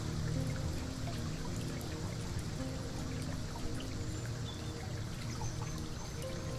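Steady flowing water, a soft continuous trickle and pour at low level, alone without voices.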